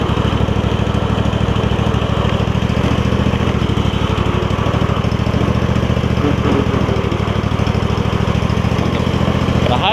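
Kohler Courage V-twin engine on a Craftsman DYS4500 lawn tractor idling slowly and roughly, a steady close mechanical drone with a fast pulsing beat throughout, no talk over it.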